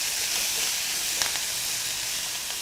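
Onions frying in a pan for egg curry give off a steady, close, bright sizzle that hisses continuously without pause, with only a faint stir or clink briefly rising above it.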